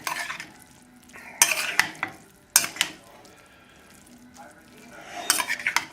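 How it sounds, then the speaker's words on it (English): Fusilli pasta with spinach, garlic butter, white wine and shallots stirred in a pan over a low flame, with a utensil scraping and clattering against the pan in loud bursts over a faint sizzle, close by and with no talking. "Just mix it up well."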